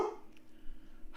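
A single faint dog bark sounds at the very start, followed by quiet room background with no further barking.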